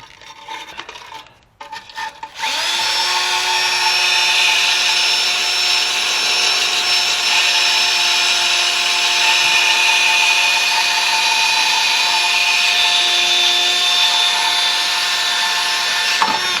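A drill cuts out spot welds on a car floor pan, a loud, steady high-pitched metallic whine and grinding that starts after a few seconds of handling noise and runs continuously up close.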